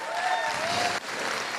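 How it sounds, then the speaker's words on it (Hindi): Audience applause for seminar guests, a dense steady clapping that holds at an even level with a brief dip near the middle, close and fairly loud. "मैं चाहूँगा सर के लिए भी जोरदार ताली होनी चाहिए।"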